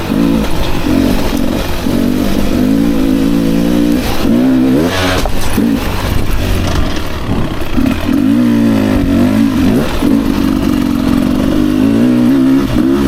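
A 2024 Beta 300RR Racing Edition two-stroke dirt bike engine revs hard and continuously up close, its pitch rising and falling as the rider works the throttle on a track.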